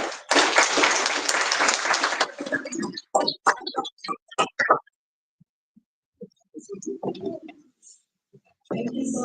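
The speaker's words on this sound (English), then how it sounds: "a round of applause again for the country" Conference audience applauding at a mining industry gathering in Cape Town, a dense burst of clapping for about two seconds that thins into scattered claps and murmuring, then falls mostly quiet before more sound returns.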